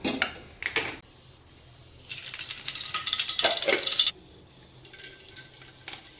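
Curry being tempered in hot oil sizzles in bursts, with short crackles early, a louder steady sizzle in the middle and a softer hiss toward the end, close up with no talking.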